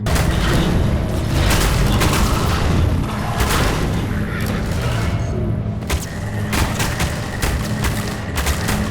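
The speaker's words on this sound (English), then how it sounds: "You stop shooting me! I cannot tell where you're shooting!" Loud, dense gunfire rakes across a Half-Life 2 firefight, overlapping booms and rapid shots crowding the whole stretch with only brief dips.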